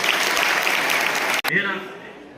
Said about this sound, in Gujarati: જોરદાર તાળીઓ પાડી